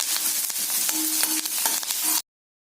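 Lentils sizzle steadily in a hot pan, a dense crackling hiss with a few light scrapes, ending abruptly in silence.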